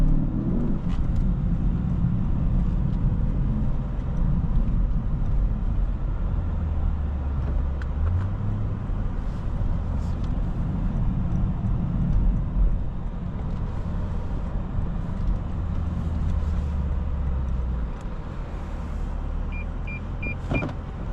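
A 2025 Lexus IS 500 F Sport Performance cruises on the road, heard from inside the cabin as a steady loud engine drone with tire and road roar, shifting slightly in pitch, with no talk.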